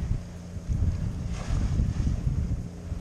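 Fishing boat passing at 11 knots on the starboard side of a cruising sailboat, heard as a low rumbling engine and water rush under gusting wind noise, fluctuating and fairly close.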